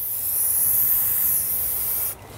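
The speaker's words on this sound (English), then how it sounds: "Make sure you always are spraying down away from the disc." Steady aerosol hiss as black spray paint is applied to a spinning car wheel and tire, loud and continuous for about two seconds before cutting off abruptly.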